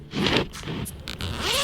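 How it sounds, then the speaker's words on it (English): A zipper on a hard-shell Phantom 4 drone carrying case slides open in a few quick, close rasping pulls, loud and clear with no voices. "The zippers move really easily."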